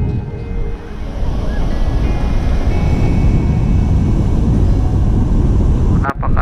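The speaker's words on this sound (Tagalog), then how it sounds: "mataas ang alon" Loud, continuous surf roars as high ocean waves crash onto a beach in North Luzon, Philippines, with wind buffeting the microphone and a brief knock near the end.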